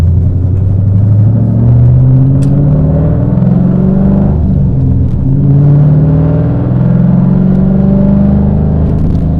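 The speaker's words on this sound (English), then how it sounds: "this car sounds nasty" The cammed LS V8 of a 6-speed fourth-generation Chevrolet Camaro SS rumbles with a loud, choppy, lopey idle, rising and falling gently with light revs, close and alone without speech.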